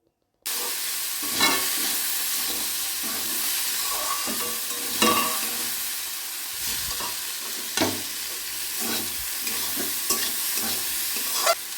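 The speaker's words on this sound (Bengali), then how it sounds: "এই ছোলাগুলো এর সঙ্গে দিয়ে ভেজে নেব" Steady sizzling of chickpeas frying in oil, with a few louder clattering stirs scattered through and no talking.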